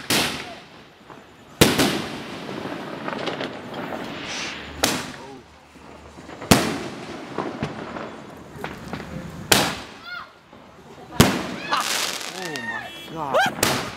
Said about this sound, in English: So these are their 60-gram canister shells.